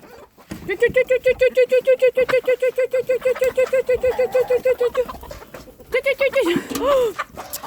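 Australorp chickens calling close by, a long run of steady, rhythmic clucks that stops briefly and then resumes with a few rising, squawking notes.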